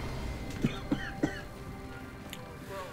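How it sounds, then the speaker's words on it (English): Three quick, soft coughs in a row, fairly close but quiet, over a low background hum of game audio. "Excuse me if you are hearing the cough"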